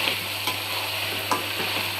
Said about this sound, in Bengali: 1 কিলো মাংস বসিয়ে দিয়েছি